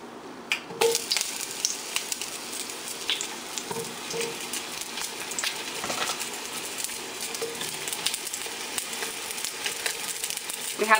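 Onion frying in hot oil in a pan, a steady close sizzle with scattered pops and crackles running throughout.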